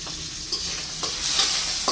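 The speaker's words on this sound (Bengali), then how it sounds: "চিংড়ি মাছ ভাজতে দিয়ে দেব লবণ, আর দিয়ে দেবো হলুদ।" A constant hot sizzle of shrimp with salt and turmeric frying in a pan, with occasional soft scrapes as it is stirred.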